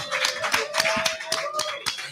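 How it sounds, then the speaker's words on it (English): Crowd clapping at an NFL draft party in a Chicago sports venue, a dense, lively patter of many hands with a sustained tone and light chatter running underneath. "Give me a round of applause"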